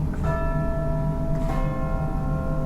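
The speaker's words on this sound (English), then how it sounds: "The final piece of tuned percussion is over here, the chimes against this wall." Chimes from the tuned percussion of a Kimball theatre organ, two clear bell-like strikes with long ringing tones, the second overlapping the first's decay.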